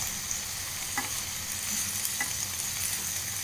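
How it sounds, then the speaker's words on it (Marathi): Potatoes frying in a pan with fenugreek leaves give a soft, steady sizzle, broken by two brief scraping stirs, with no talking. "आतां हांव कट्ट करून दवरलेले साल काडून बटाट आसना ते हांत घालून सोडता"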